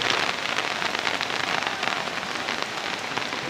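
Heavy rain pours down in a dense, constant hiss of drops striking surfaces, loud and close, with no voices.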